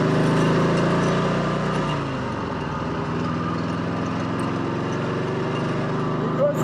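A 1954 Harley-Davidson KH motorcycle engine pulls away and accelerates on an autumn ride, a steady low rumble with shifting harmonics that stays loud and close throughout.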